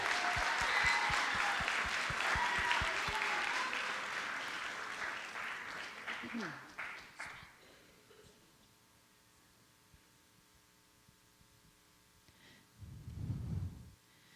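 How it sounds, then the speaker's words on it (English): Loud applause and clapping for a school concert band at a winter concert fill the first several seconds, then thin out to scattered claps and fade into a quiet room with a brief low noise near the end. "Can we give them another round of applause?"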